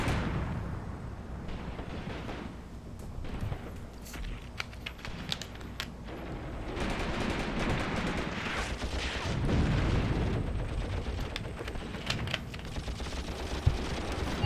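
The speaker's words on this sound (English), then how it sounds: "But the AT guns are still alive, guys. Still firing." Anti-tank guns firing in the WW2 tactical video game Graviteam Tactics: Mius Front, a dense continuous battle din of rapid gunfire and booming shots layered over one another, with no voices.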